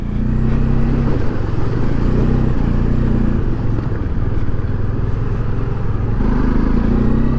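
A motorbike pushes through a river water crossing on a mountain ride from Pokhara toward Jomsom in Mustang, Nepal. Its engine hums steadily and loudly throughout, with a continuous wash of splashing water and no talk.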